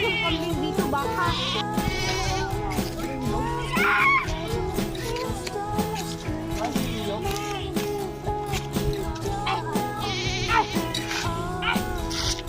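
Goats bleat repeatedly on a farm during an onion harvest, wavering calls recurring irregularly, some close and loud, others fainter, amid a busy background with occasional voices.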